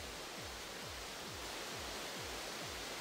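A dense, steady roar of falling water from a waterfall in the online game Metin2 fills the scene, constant and hissing with faint rhythmic low pulses beneath.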